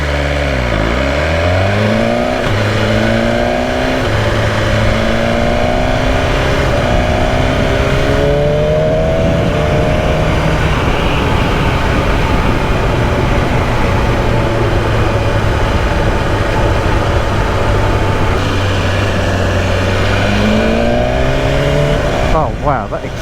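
A BMW S1000RR sport motorcycle's exhaust revs up loudly and up close, rising and falling through repeated throttle blips over a sustained engine drone.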